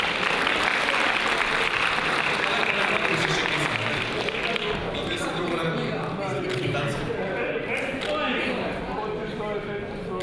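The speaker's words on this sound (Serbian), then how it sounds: "Aplauz za Šikicu, molim." A festival audience claps in a sustained, dense burst of applause that fills the whole stretch and fades slightly toward the end, with voices faintly mixed in.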